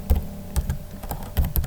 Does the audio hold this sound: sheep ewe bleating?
no